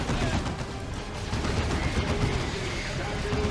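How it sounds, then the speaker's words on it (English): Heavy bolter fire from a pintle-mounted gun on a vehicle in the Dawn of War 2 Retribution strategy game, dense rapid rattling bursts under a busy battle mix with a voice talking over it. "look at the focus fire with the heavy bolter on the front, the pintle mounted heavy bolter"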